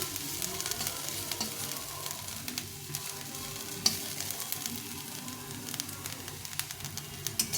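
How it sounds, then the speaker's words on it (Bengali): Bottle gourd peel with potato and onion stir-fried in oil sizzles continuously nearby, with a spatula occasionally scraping and knocking the pan and a brief sharp clack partway through. "নেড়ে নেড়ে ভেজে নেব"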